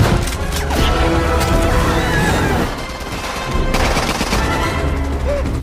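Heavy gunfire erupts in a film scene, with someone shooting down from an upper floor. Dense, loud bursts of shots crash and boom continuously, broken by a short lull before the firing resumes just as intensely.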